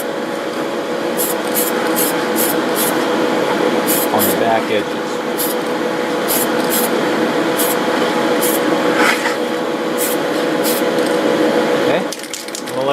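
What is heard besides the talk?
spray painting parts of 1/14 Tamiya Volvo FH16 model truck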